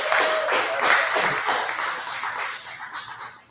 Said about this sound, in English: Come on, clap it up for Tony.